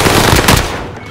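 Rapid automatic gunfire in Call of Duty: Warzone on the Caldera map, a loud dense burst of overlapping shots that fades slightly at the end.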